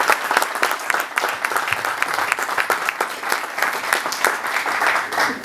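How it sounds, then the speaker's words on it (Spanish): An audience at a talk welcomes economist Matías Tombolini with sustained, dense applause, many hands clapping together at an even level for several seconds. "Pido un aplauso fuerte para Matías"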